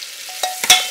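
Onions, garlic and celery sauté in butter in a soup pot. A soft sizzle is broken by a few sharp stirring scrapes and clacks close by.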